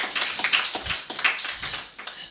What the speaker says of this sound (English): could you give them a round of applause?